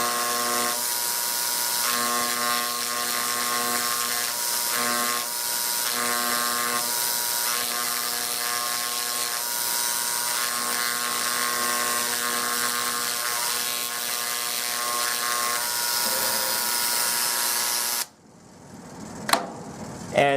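A handheld electric engraving tool buzzes steadily and close up, writing a sample letter and number onto a specimen mount, its dense whine running unbroken for about eighteen seconds before stopping abruptly, followed by a few faint clicks.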